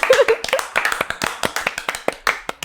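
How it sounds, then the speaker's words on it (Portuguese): A small group claps hands in a quick, uneven burst of distinct, close-up claps, some sharp and some softer, lasting a couple of seconds with no talk over them. "Palmas para essa história!"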